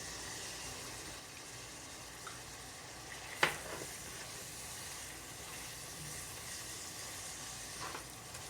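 Turmeric and mustard seeds sizzle in hot oil in a pan for a home-style bottle gourd (lauki) recipe, a soft steady crackle with one sharp pop midway.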